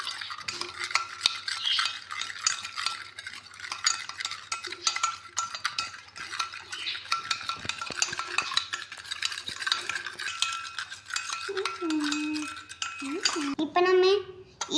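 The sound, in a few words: stirring bubble mixture of sugar and water with a spoon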